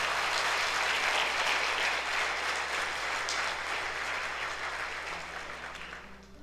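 A church congregation at a Sunday service breaks into sustained, loud applause that fills the room, then gradually tapers off toward the end, with no speech over it.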